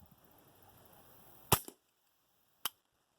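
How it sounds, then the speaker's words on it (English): A suppressed 4.5-inch 10/22 Charger pistol fires at clay targets outdoors, giving two sharp dry cracks about a second apart, the first with a short echo, over faint background noise. "we're gonna go ahead and try some rounds out just on some clays here"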